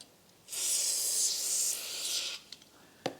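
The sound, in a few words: spraying penetrating lubricant from a can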